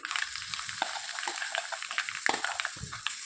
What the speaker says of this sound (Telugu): ఇప్పుడు మనము పచ్చిమిర్చి పచ్చడిని ఈ తాలింపులో వేసుకోవాలి